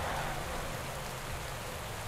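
Steady rain hisses across a bike race in the video game Pro Cycling Manager 2014, set at the Grand Prix de Vitré in Brittany, France, as an even, continuous wash with no voices.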